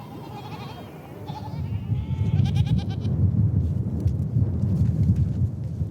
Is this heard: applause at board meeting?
no